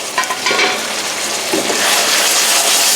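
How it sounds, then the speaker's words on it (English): Vegan British Indian restaurant-style base gravy of spices and oil in a little water bubbles and sizzles loudly in a pan, a dense, continuous hiss heard up close without any talking. "base gravy's been boiling away in that little bit of water and all the spices and the oil"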